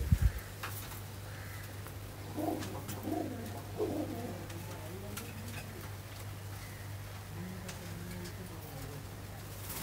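Soft, low coos from breeding pigeons come and go against a steady hum and faint background noise, with a few clicks and rustles.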